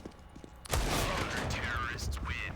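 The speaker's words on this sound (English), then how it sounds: "Great shooting from the rifler." Rifle gunfire in a Counter-Strike esports match at the ESL Pro League, a sudden loud burst of continuous shooting that breaks in after a quiet start and keeps going with whining ricochet-like tones on top.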